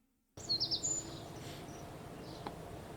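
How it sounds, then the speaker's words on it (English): Outdoor birds give a few faint, high chirps and short tweets near the start against a soft steady background hum, with another brief call later. "I hear the birds."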